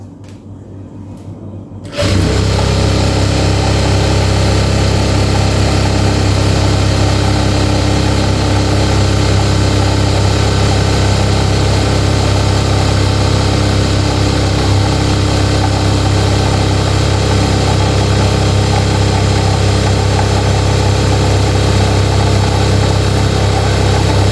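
A sewing machine winds its bobbin with the pedal pressed, starting after a brief quiet moment and then running as a loud, steady, continuous motor whir throughout.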